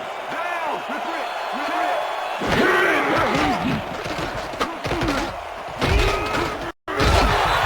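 Hard tackle hits in a Madden NFL football video game, several thuds and pad collisions against crowd noise, with a commentator talking over them.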